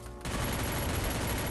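Rapid bursts of gunfire from the Free Fire video game, with a graffiti squad skin in play, erupt after a brief quiet moment and continue as a loud, dense automatic volley.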